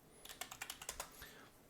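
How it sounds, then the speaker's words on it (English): Quick burst of typing on a computer keyboard, about a dozen crisp close key clicks in an uneven rhythm over roughly a second, fairly faint and with no talking. "if I can type it in correctly"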